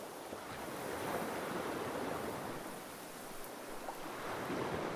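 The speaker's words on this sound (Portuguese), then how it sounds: "só o barulho da água se movendo" Moving water in the Dark Souls video game churns as a steady, soft wash like surf, faint and continuous, with no talk over it.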